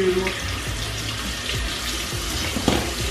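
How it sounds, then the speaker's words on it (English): A tap runs steadily into a sink as face wash is rinsed off, a continuous close splashing hiss with light splatter from hands and face, and no talk. "rinse the rest of the face wash off. Washing this right off my face."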